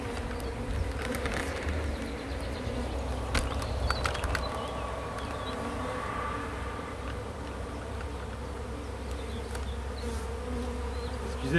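A honeybee swarm leaving a hive in swarming season, a dense continuous buzz of many insects close by, with occasional louder passes of individual bees.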